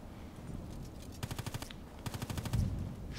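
Sniper rifle fire in an online shooter game, a quick volley of sharp, fairly faint cracks in two rapid bursts of several shots each, heard alone with no talking.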